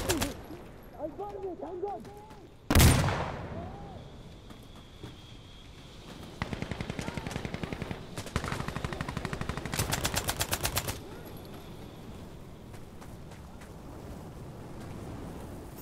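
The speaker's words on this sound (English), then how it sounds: "Sterling versus Sniper. Sterling wins every fucking time." Sterling submachine gun bursts in the Insurgency Sandstorm video game: a loud close shot, then rapid automatic rattles in several bursts, with quieter ambient battle noise between them.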